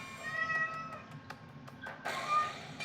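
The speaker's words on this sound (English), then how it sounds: "you can probably hear in the background my cat." A house cat meows several times in the background, short repeated calls rising over a quiet room hum, with one louder, brighter meow near the end.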